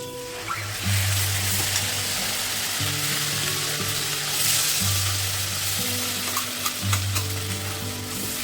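Onion paste sizzles loudly in hot leftover prawn oil with whole garam masala, dried red chillies and bay leaves, a dense close crackle under a repeated low droning hum that starts and stops; nobody talks.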